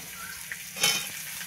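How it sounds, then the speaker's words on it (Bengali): Pieces of raw banana, papaya and potato frying in a pan: a soft, even sizzle with one brief, louder hiss partway through, heard alone and up close. "এবার এর মধ্যে আমি এই কাঁচকলা দুটো দিয়ে দেব। এটাকেও হালকা ভেজে নেব"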